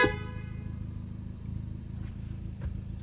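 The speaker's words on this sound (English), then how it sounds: "Window down, and the world famous horn test." Horn of a Kia Proceed GT 1.6 T-GDI, a loud steady honk starting sharply and held for about three seconds, with the car's idle underneath and no talking.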